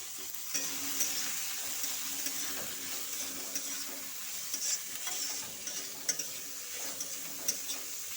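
Cabbage, green chillies, carrot, peas and beans stir-fry in a pan with a soft, steady sizzle, punctuated by light ticking scrapes of a spatula, moderately faint and without voices.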